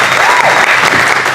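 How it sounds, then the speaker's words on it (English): A loud, close burst of audience applause at the EnContrArte live show, with a whooping cheer rising briefly over the dense clapping of the crowd. "Can we get a round of applause for everybody in the house"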